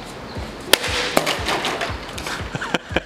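A homemade steel-cable self-defence weapon striking an unbroken glass bottle, giving a few sharp close cracks amid rustling and background noise.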